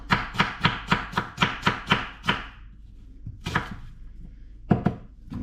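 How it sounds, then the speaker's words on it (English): An onion is chopped on a board with a sharp knife, eight quick evenly spaced close thuds followed by a pause and two or three more separate cuts. "And chop it all up. Cut it in half. Nice sharp knife."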